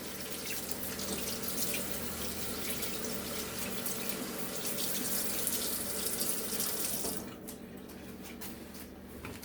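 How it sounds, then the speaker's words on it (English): Water from a kitchen tap runs steadily as hands are washed beneath it, a close, even splashing rush that drops off near the end as the flow is cut. "So I'm going to wash my hands first."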